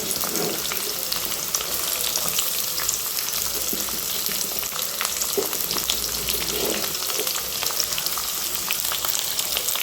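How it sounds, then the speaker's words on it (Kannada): Onions fry in a pan at home with a dense, continuous sizzle and small crackling pops throughout, moderately loud and close, with no talking. "ಈಗ ಇನ್ನು ಈರುಳ್ಳಿ ಹಾಕ್ತಾಯಿದ್ದೀನಿ ನೋಡಿ"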